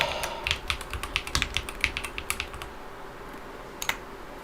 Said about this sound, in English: If you can hear me typing